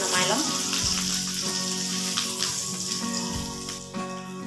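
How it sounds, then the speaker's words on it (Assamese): Dried fish frying in hot oil in a home kitchen sizzles with a continuous bright crackle and hiss, steady and close throughout. "আমাৰ শুকান মাছখিনি ফ্ৰাই হৈ গ'ল"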